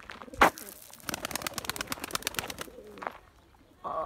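A pigeon returns to its loft, giving a brief close call and a quick run of rustling, flapping-like bursts, with no talking.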